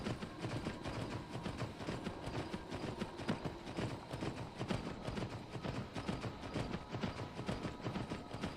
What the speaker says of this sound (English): We've got a ghost horse leaving hoof prints.